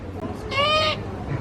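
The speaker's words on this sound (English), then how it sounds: "A great horned owl." A great horned owl at Grouse Mountain gives a single drawn-out, wavering call of about half a second, close and fairly loud, with people talking nearby before and after it.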